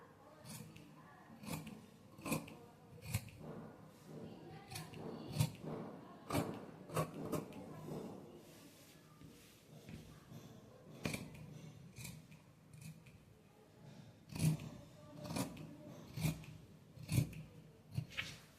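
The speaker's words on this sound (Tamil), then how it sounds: "இப்போ இதை வந்து கட் பண்ணி எடுத்துறேங்க" Scissors cut through chudidar top fabric for a size 32 pattern, making a series of crisp snips spaced irregularly over a long stretch, close up and fairly quiet, with brief soft rustles of cloth between cuts.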